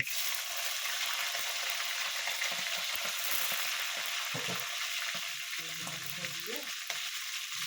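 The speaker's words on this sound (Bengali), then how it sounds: "এরপর আমি যে চিংড়ি মাছটা ধুয়ে রেখেছিলাম সেই চিংড়ি মাছটা দিয়ে দেব।" Shrimp frying in hot oil over a tempering of cumin and nigella seeds, a steady close, loud sizzle with spatter and occasional stirring scrapes, no voices.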